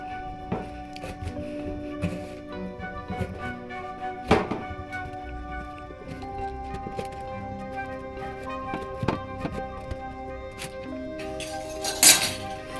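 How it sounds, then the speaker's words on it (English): Kids scoop the insides out of a carved pumpkin, with continuous thunks, scrapes and clinks of a utensil against the shell, close and steady with occasional louder knocks. "Once you cut the top, you can have your kids scoop out the insides."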